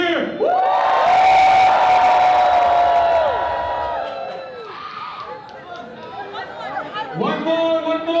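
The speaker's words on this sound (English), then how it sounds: "One more time, can I get a big cheer?" Rally crowd cheering and whooping on cue, a loud burst of yells and shouts that peaks early, fades, then flares again near the end, with scattered chatter and voices between.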